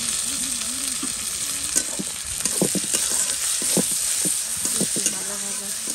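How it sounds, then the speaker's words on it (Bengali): Food frying in a pan with steady sizzling, overlaid by repeated close scrapes and knocks of a spatula stirring and tossing the contents. "এরপর একটু ভাজাভাজি করবো"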